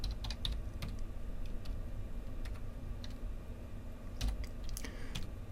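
Typing on a computer keyboard in a PowerShell command window, quick irregular key clicks in short bursts over a low room hum, close and fairly quiet.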